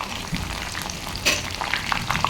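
Whole cumin and chopped onion frying in hot oil with bay leaf in a home kitchen, a steady soft sizzle with a few sharper crackles and pops near the end, no talking.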